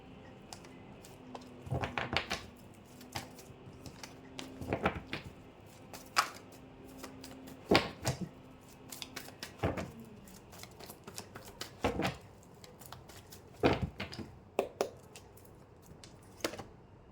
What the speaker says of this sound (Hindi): सो पहले कार्ड निकाल लूँ।